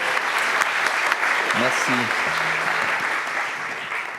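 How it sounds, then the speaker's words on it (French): Audience applause at a conference event, dense sustained clapping filling the room while someone briefly speaks over it, fading slightly at the end. "on vous applaudit encore une fois avec Philippe"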